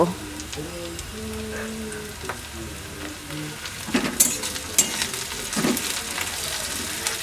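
Sliced onions frying in a pan for a mutton liver dish give a soft, steady sizzle with faint scraping stirs and a few sharper crackles later on, close and fairly quiet.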